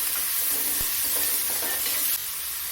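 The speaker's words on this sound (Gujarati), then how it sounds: "હવે આપણે આ તુરિયાની કટકી કરી છે, તો એ નાખી દઈએ. એને મિક્સ કરી લઈએ." Chopped ridge gourd and tomato sizzle in a hot pan as a spoon stirs them, with a sharp knock near the start and scraping strokes over a steady close hiss that drops a little near the end.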